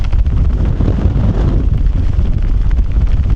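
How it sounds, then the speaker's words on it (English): Strong wind buffets the microphone on a Lake District fell above Buttermere and Crummock Water, a loud, gusty roar that rumbles continuously without a break. "Super windy now"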